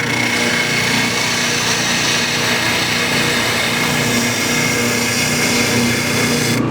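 A power sander working bandsaw marks off a wooden trestle table part, a loud steady whirring grind that holds continuously without pause.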